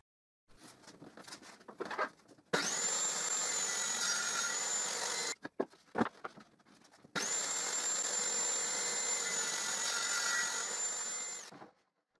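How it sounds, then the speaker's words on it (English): A table saw makes two miter cuts across the ends of a plywood board: two long, steady, high-pitched whines of the spinning blade, each lasting a few seconds, separated by a short pause with faint handling noises. "Now I will use my table saw meter lathe. And I will meter cut both ends of this plywood board."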